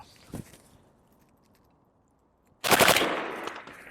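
A short burst of rifle fire from a Mark 111 PWS during a body armor plate test: a faint single report, then a loud, rapid string of close shots that rings out and decays.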